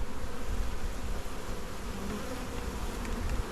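Dense swarm of bees buzzing during a beehive cutout, a constant loud droning hum filling the whole clip with no pauses or voices.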